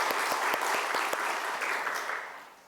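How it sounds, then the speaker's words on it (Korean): Congregation applause at an Easter church service honouring the choir's cantata, steady dense clapping with sharp individual claps standing out, holding throughout and fading slightly at the end. "박수하겠습니다."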